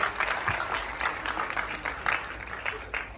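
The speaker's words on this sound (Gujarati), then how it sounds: "તો શ્વેતાબેન સેનને આપણે જોરદાર તાળીઓથી વધાવી લઈએ" Enthusiastic audience applause welcoming a dancer at a Diwaliben Trust function at Alankar Cinema, Bardoli, with a crowd clapping steadily for a few seconds in an indoor hall.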